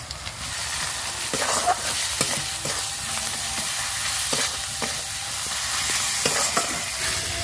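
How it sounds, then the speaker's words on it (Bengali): Onion, ginger and garlic paste with turmeric and salt fries and is stirred in a pan, a continuous crackling sizzle with scraping stir strokes throughout. "পেঁয়াজ আদা রসুনটা খুব ভালো করে কষে নিয়েছি।"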